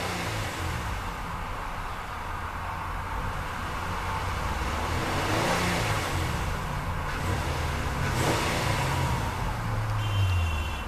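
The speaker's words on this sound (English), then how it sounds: "Definitely a very throaty rumble from that big V6." A 2014 Nissan Pathfinder Platinum 4WD with its V6 running: a steady low rumble at idle, swelling slightly midway with mild revs, recorded close and without voices.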